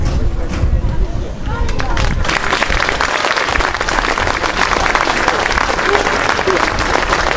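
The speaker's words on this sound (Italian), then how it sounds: "Grande applauso." A crowd at an outdoor square-naming ceremony in Squinzano claps loudly and continuously, a dense wash of applause mixed with murmuring voices throughout.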